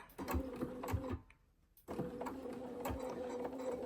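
A sewing machine stitches a seam in two quick runs of rapid mechanical whirring and needle clatter, broken by a short pause, close and fairly quiet with no talk.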